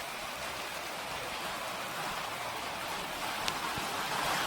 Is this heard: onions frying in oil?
no